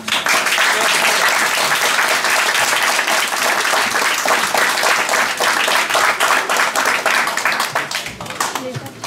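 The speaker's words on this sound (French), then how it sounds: "Applaudissez bien fort pour les encourager." An audience at a live show claps hard and continuously, a dense loud wash of applause that tapers slightly toward the end.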